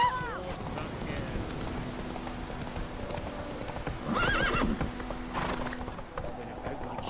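Roach, a horse in the video game Witcher 3, gallops with steady clip-clop hoofbeats and gives a loud neigh midway, over a game music and ambience bed.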